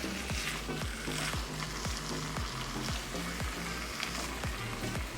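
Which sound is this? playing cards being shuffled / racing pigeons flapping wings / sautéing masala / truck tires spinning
sautéing masala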